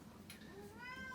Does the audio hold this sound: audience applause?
no